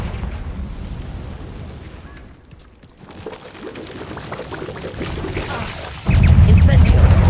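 A Confringo blasting spell in Hogwarts Legacy goes off as a dense, rumbling burst, with a brief lull before a louder, heavier blast surges near the end. A voice speaks over the game sounds.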